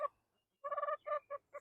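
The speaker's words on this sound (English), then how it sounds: "we're going to go to the chickens" Backyard chickens give several short, nasal clucks close by: one brief call, a pause, then a quick run of clipped notes, fairly quiet.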